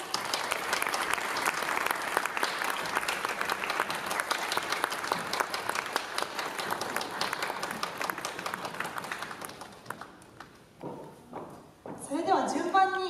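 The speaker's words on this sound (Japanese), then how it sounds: "皆様大きな拍手でお迎えください。" A crowd at a university film festival screening applauds the director, staff and cast taking the stage, steady dense clapping that thins out and fades near the end, followed by a voice.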